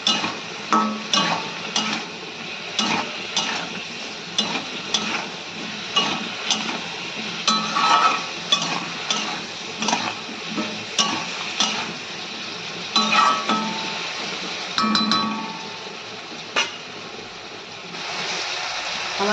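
Vegetables with spinach are stirred and sautéed in a pan, giving a steady close sizzle broken by repeated scraping strokes of the spoon throughout, with no talking.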